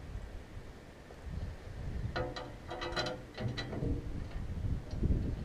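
A ratchet wrench cracks loose and spins out body panel bolts, giving a burst of rapid clicking in the middle, with clanks and handling noise around it and a steady background hiss.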